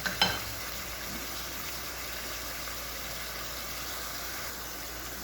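Kebab meat sears in a pot on a stovetop, its water cooking off in a steady, close hiss and sizzle. A single sharp clank sounds at the start.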